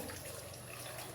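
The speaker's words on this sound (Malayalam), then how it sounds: "വെള്ളം ഒഴിച്ചു കൊടുക്കാം" Water is poured into a pressure cooker holding cassava, a soft, steady, faint stream of liquid running without a break.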